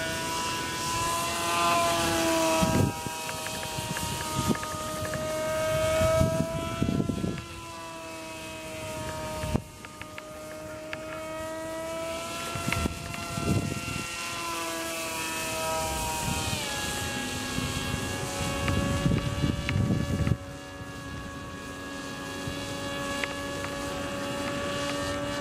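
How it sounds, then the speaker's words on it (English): Electric RC Bixler model airplane flying under propeller power, its motor whine holding a steady pitch that rises and falls as the throttle changes, passing near and farther away against wind noise. "So it can quite happily stay in the air at that throttle."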